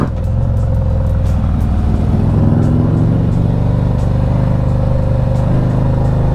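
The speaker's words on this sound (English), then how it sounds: "So we are out on the Street Glide, riding with RJ." A Harley-Davidson Street Glide with a 124 ci engine cruising on the road, its deep engine rumble steady and loud, with wind noise and faint clatter layered over it.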